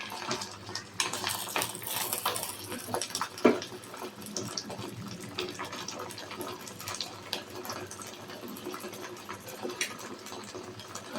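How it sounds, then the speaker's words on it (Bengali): Homemade hair oil bubbling as it boils in a pot, a steady broadband simmering hiss with scattered pops and one sharper clink near the start, continuous and fairly close throughout. "দেখছো বন্ধুরা যে আমার তেলটা ফুটতে শুরু হয়ে গেছে"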